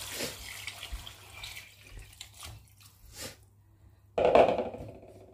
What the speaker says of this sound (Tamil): தண்ணி ஆட் பண்ணிட்டு நல்லா கலந்து விட்டுக்கலாம்